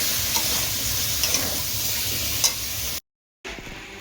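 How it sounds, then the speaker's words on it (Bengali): Potatoes left frying in a home kitchen pan give a steady, close sizzle with faint crackles, cut off abruptly by a brief silence before the hiss returns. "আলুটা ভাজছিলাম, বসিয়ে গেছি।"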